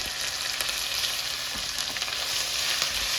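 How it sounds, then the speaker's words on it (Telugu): Ginger garlic paste fries in a pan with a dense, steady sizzle and occasional stirring scrapes, close and unbroken. "దీని పచ్చి వాసన మొత్తం పోయే వరకు వేయించుకోవాలి."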